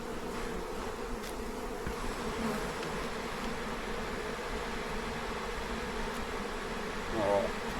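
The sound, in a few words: honey bees buzzing at the hive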